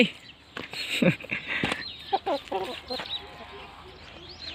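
Chickens cluck on a small rural vegetable plot in winter, a scatter of short, nearby clucks and squawks with a few pauses between them, no one speaking.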